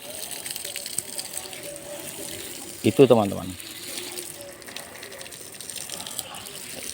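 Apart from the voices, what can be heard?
watering plants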